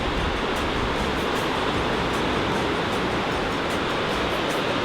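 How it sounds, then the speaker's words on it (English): Waves break continuously on the Lake Huron shore in a dense, roaring wash of surf. The sound is loud and close, with no pauses and no voices over it. "you can hear the crashing of the waves"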